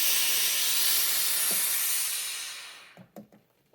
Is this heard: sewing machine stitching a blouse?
no